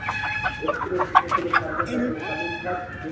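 Broiler chickens cluck and squawk close by in a quick, busy chatter, several birds calling over one another without pause.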